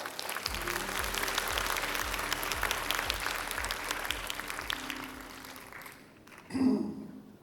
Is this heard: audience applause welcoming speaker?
yes